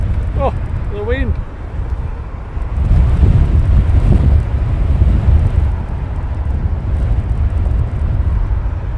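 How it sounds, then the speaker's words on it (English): Strong wind buffeting a microphone outdoors at Heathrow Airport, a loud continuous low roar that surges and gusts, with a brief voice speaking early on. "Oh, the wind."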